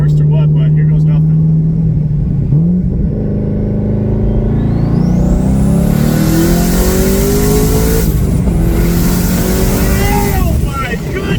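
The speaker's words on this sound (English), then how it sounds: "let's do a quick second gear pull in these things" A twin-turbo Corvette C6 Z06 on a drag pack pulls hard in second gear, its engine rising steadily in pitch with turbo whine, loud and close, while people whoop and shout over it.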